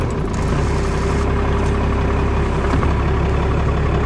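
A stock Cummins 12-valve diesel in a five-speed dually pickup idles on a warm, rainy day, a loud, steady low rumble that holds constant close by with no one talking.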